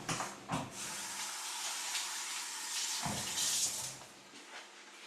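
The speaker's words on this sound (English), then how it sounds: "Wash my hands real quick." Hands washed under a running kitchen tap, a steady hissing water stream that splashes and changes tone as the hands move through it, close and continuous for several seconds.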